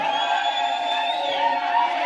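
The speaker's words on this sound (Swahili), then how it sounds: "Vigelegele jamani, kina mama" Women in a crowd at a political rally in Kitengela ululate, a high warbling trill rising over the crowd noise in one short, continuous burst.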